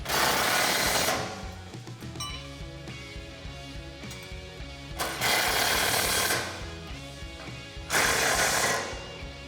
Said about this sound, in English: what we can do is tighten down these bolts